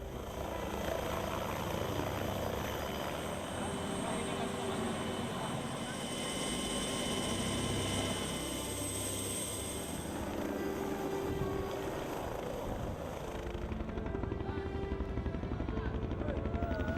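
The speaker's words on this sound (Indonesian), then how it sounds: "2 helikopter Australia mendarat di Long" An Australian helicopter's loud, steady rotor and engine roar runs throughout, close and unbroken, with faint voices in the background.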